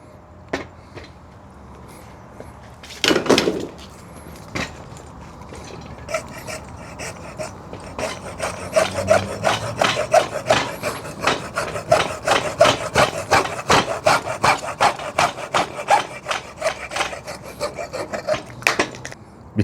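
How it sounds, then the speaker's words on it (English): A hand saw cuts through a pole, and after a few early scrapes it settles into a fast, even rhythm of loud rasping back-and-forth strokes that carry on to the end. "I will use this saw to cut it out"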